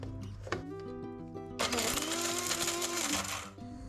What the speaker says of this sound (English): I'm going to grind this into a powder.